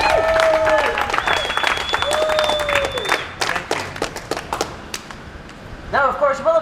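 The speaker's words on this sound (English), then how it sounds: "a huge round of applause, please, for Commandant Frankie McCastro" Audience applause at a fringe comedy stage show, with clapping mixed under a speaking voice and bright tonal sounds, fading toward the end before a short burst of voice.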